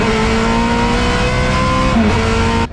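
A vintage race car engine screams at high, steady revs at a vintage race, loud and close, with a harsh buzzing tone that shifts briefly before cutting off abruptly.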